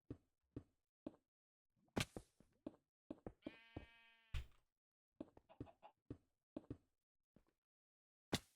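Sheep bleat in a block-building video game, one clear wavering bleat in the middle, surrounded by many sharp, evenly spaced clicks and taps from placing blocks.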